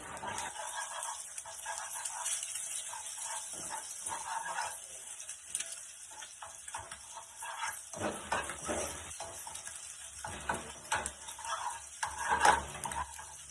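Egg fried rice is stirred in a hot pan, with a steady frying sizzle broken by repeated scraping and clinks of a utensil against the metal, at moderate volume and close by.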